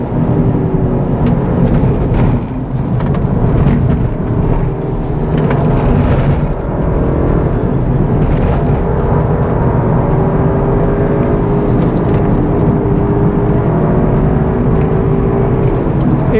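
A tuned VW Golf GTI Clubsport engine revs hard and steadily on a race track, pitch rising and falling as it climbs through gears, loud and continuous with faint whirring throughout.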